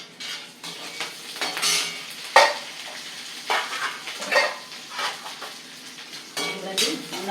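Chana dal, urad dal, dried red chillies, green chillies and curry leaves frying for lemon rice, a crackling sizzle with repeated metal spoon scrapes and clinks against the pan, close-up, in bursts.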